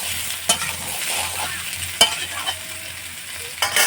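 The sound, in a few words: ridge gourd added to oil and stirred in pan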